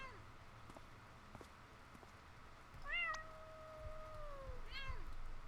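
A cat in the video game Impostor Factory meows twice, a long drawn-out call followed by a shorter rising one, heard over a quiet game ambience.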